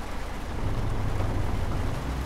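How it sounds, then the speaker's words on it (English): Steady rain in a trucking video game, a dense even hiss and patter that fills the short stretch without any talk over it. "We're starting in the rain."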